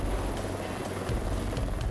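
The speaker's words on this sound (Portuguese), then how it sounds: "Foi preciso acionar até o helicóptero de salvamento." A rescue helicopter deployed by firefighters to an emergency at an apartment block produces a steady, loud rotor drone that holds for the whole moment, with no talking over it.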